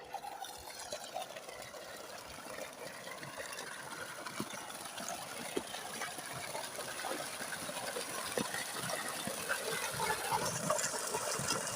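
Water gushing under pressure from a 3-inch pipe fed by a VFD-controlled solar pump, a steady broadband rushing and splashing that holds near and fairly loud throughout, swelling slightly toward the end, with no talk.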